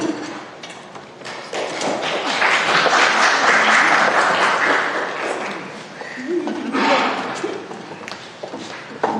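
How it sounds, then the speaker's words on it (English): An audience at a civic leadership academy session claps in steady, dense applause that swells through the middle and fades slightly toward the end, with no talk over it. "Thank you for the applause"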